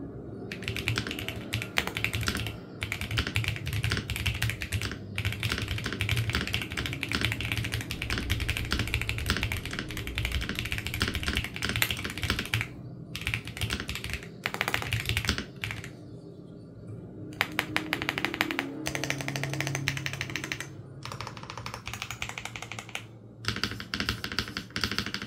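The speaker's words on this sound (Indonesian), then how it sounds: "kalian bisa langsung dengerin typing testnya sendiri." Steady typing on a Noir Timeless82 V2 tactile mechanical keyboard, a dense run of close, crisp key clacks with brief pauses between bursts, heard alone without talk.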